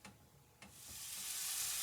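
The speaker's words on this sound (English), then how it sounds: "The onions are here in my cast iron skillet. They are sizzling now." Onions sizzle in olive oil in a cast iron skillet, a soft steady hiss that swells and brightens over the clip, with a couple of faint clicks near the start and no talking.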